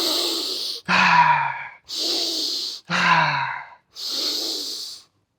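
Forceful power-breathing exercise: five strong breaths alternating between sharp, rasping inhales and long, airy exhales, each around a second, close and loud with brief pauses between.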